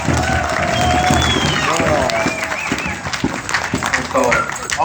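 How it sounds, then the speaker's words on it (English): Crowd applause rises at an outdoor powwow, a broad steady wash of clapping with cheers and scattered voices mixed in, holding loud throughout. "So please give her a round of applause."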